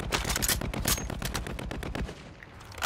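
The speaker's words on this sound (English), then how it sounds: "That gun is horrendous, like, even the sound is fucked up." Rapid automatic gunfire from a gun in the Warzone battle royale video game, a loud sustained burst of closely spaced shots that tapers off near the end, with no talking over it.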